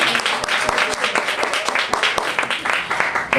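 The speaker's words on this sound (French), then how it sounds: "On l'applaudit, il m'a sauvé." An audience claps for a man at a live music performance, heard as dense, fairly close applause with quick irregular hand claps and some voices mixed in.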